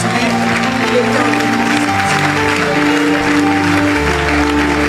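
A church congregation claps together during a service, a dense wash of applause running steadily beneath sustained music.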